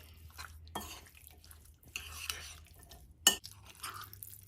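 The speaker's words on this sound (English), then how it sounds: "We're just gonna take a spoon, mix that all together." A spoon stirs marinade together in a bowl, giving soft scraping and clinking strokes at close range, with one sharp knock of the spoon near the end.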